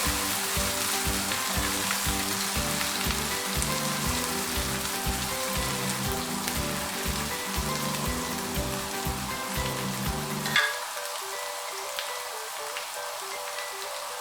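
Chicken and spinach for palak keema fry in a pan with a steady, close hiss and crackle, broken by a brief clatter of utensil, while tonal music plays underneath and then drops away, leaving the sizzle alone.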